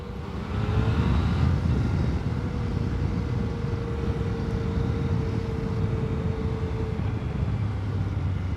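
A 2018 Yamaha Tracer 900 motorcycle pulls smoothly away from low speed, its engine a deep steady drone with a rising tone, heard from the rider's position under heavy wind rush.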